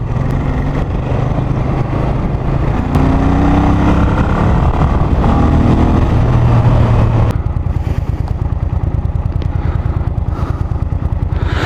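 A Suzuki VX800 motorcycle engine idles steadily at about 1100 RPM, then revs up sharply a few times; loud and close, with a lumpy, throbbing rhythm settling back to idle.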